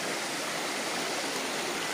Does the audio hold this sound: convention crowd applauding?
no